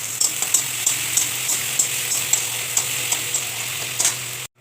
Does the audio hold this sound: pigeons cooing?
no